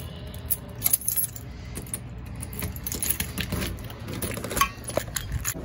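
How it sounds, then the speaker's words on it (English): Keys jangle close by as a set is readied at the entrance to a condo building, a rattle of small metallic clinks and chinks over several seconds. "Let me get my keys ready."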